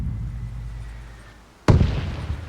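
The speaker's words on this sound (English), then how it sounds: "We're really stretching out the mortar shells right now" A Soviet mortar fires in Arma Reforger, a single sudden loud thump with a booming, rumbling tail after a quiet lead-in, close by.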